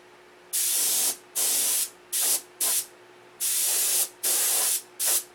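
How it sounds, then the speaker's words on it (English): An airbrush sprays paint on a stunt plane in short bursts, seven hissing blasts of varying length separated by brief pauses, close and clear. "Two coats on that one with the airbrush."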